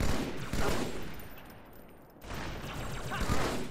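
Dense rapid gunfire from Marines in Halo 2 crackles loudly, dips briefly into a quieter moment, then resumes in a sustained fusillade.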